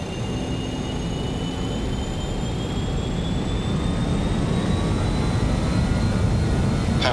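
In MSFS 2020, a BAE 146-100 airliner's jet engines build to takeoff power, a dense, loud roar with rising whine tones climbing steadily over several seconds, no voices.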